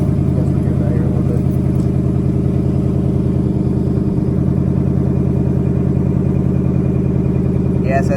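A 2019 Ford Mustang GT settles into a steady idle after a cold start, a constant low rumble close by, with someone talking over it.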